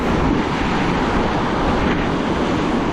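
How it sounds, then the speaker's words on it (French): Ocean surf on a beach during surfcasting, a steady loud wash of breaking waves mixed with wind buffeting the microphone, continuous and close with no speech. "il y a des vagues aujourd'hui, faire attention"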